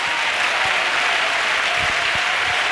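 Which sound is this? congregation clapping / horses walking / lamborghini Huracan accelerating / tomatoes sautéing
congregation clapping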